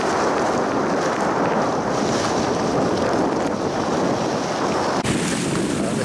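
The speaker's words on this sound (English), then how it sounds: "That very strong wind behind me, so hopefully there shouldn't be too much noise in the camera." Strong wind buffets a camera microphone on a coastal walk near Langstone, Havant, in Hampshire. The roar is loud and constant throughout, with a brief gust spike near the end.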